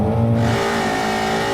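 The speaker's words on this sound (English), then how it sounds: "I'm just gonna let you hear the engine." A Shelby GT350R or Camaro Z/28 engine revs loud and close, a steady roar with strong harmonic drone that holds for over a second with no talking.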